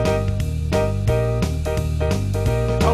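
A keyboard's Genie voice with an almost piano-like tone plays a steady rhythmic accompaniment pattern, with chords re-struck roughly every third of a second over a sustained low bass, loud and clear with no talking.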